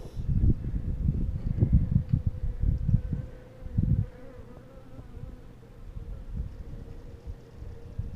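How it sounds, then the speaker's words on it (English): Honey bees on a New York State farm on a cool day, a steady low buzzing swarm close by, louder and busier at first and then thinning to a softer hum. "They're busy as bees today, collecting all the honey."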